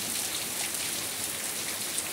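Rain in the hot northeastern Brazilian backcountry, the sertão, falls in a dense, steady hiss of drops on the ground, continuous and fairly close, with no voices.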